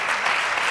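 Audience applause at a heart valve disease awareness kickoff event: a brief, dense wash of steady clapping from a crowd.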